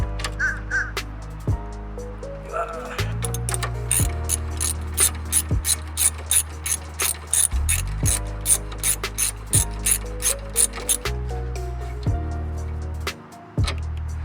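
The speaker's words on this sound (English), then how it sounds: "I'm gonna take my breaker bar and break this bolt off" A breaker bar ratchet clicks steadily on a bolt of a Scion tC during clutch replacement work, its loud, close mechanical ratcheting repeating in a fast, even rhythm throughout, with a few harder metallic knocks and no speech.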